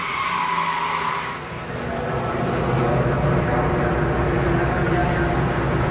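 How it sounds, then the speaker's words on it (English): A NASCAR Nationwide Series stock car at the Road America road course skids off the track in front of other cars, giving a loud, continuous rush of tire and engine noise that swells and holds for several seconds. "See, Carmichael going off in front of these cars"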